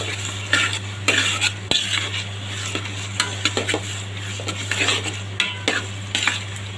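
A spoon stirs spice masala with dried red chillies and raw mango for a sour pickle, scraping and clinking against the pot in irregular bursts over a soft sizzle and a constant low hum.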